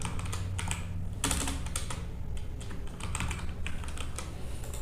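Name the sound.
typing code on a computer keyboard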